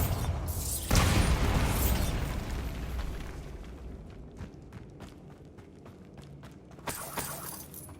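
A Bombarda spell in Hogwarts Legacy detonates with a loud broadband blast about a second in, its rumbling decay trailing off amid scattered debris clatter, then a second burst hits near the end.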